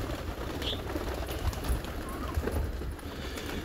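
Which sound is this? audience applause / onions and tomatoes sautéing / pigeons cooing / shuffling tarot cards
pigeons cooing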